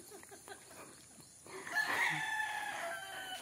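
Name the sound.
chickens, rooster crowing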